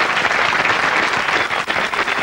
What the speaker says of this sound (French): Oui, vous pouvez l'acclamer.